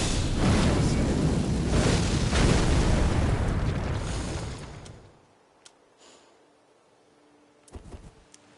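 Explosion skill from the Elden Ring Nightreign video game: a loud, broad roaring blast that fills the first few seconds, then fades into near silence broken by a few faint clicks and a short rumble.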